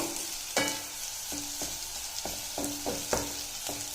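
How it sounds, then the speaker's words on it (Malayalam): Onions sautéing in a pan for chickpea curry, a constant hissing sizzle punctuated by regular knocks and scrapes of a stirring spoon against the pan. "കുറച്ചുകൂടെ ഒന്ന് വഴറ്റണം."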